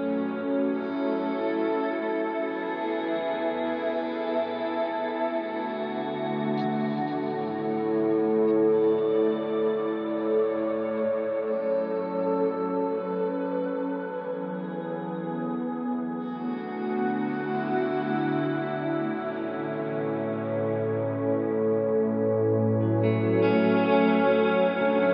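Electric guitar through a Line 6 Helix Matchless amp preset, with volume swells from an expression pedal: sustained, chorused, echoing chords that swell and linger, played alone for the whole stretch.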